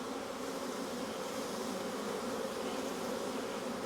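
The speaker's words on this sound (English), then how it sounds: "We got definitely a box of bees" Honey bees drone steadily inside a hive box during a spring brood chamber inspection, a dense, continuous close-up buzz that holds at an even level throughout with no talking.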